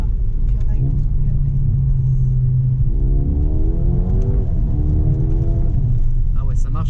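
A Mercedes-AMG A35 engine hums and revs steadily under a voice, the pitch rising as it accelerates, muffled as if heard from inside the cabin.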